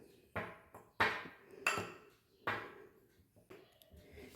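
Spoon scraping and knocking against a cooking pan while a creamy dish is stirred, a series of separate sharp clanks and scrapes at irregular intervals, close and fairly clear with no talking.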